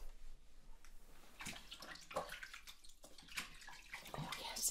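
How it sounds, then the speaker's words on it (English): Running water rinsing a Lush body scrub off skin, a steady close splashing wash with soft drips and a few brief surges, gentle and unaccompanied by talk. "make sure you rinse thoroughly"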